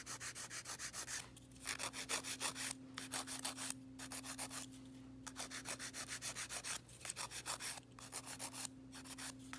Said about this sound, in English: I would suggest using the file